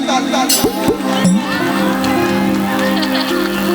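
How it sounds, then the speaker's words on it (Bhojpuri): At a stage show of Holi folk songs, a large crowd keeps up loud, continuous cheering and whooping to greet a singer, with shouts and voices blended into the roar. "एक बार जोरदार ताली बजा के आप लोग स्वागत करें लोग"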